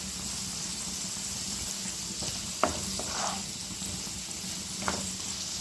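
Potato and beans masala being stirred in a pan after turmeric powder goes in, a soft steady sizzle with a few sharp spoon knocks against the pan and a brief scrape, close and fairly quiet.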